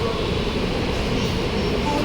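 Metro train at an elevated station platform, a loud continuous low rumble and roar of the train close by, steady throughout with no clear voices.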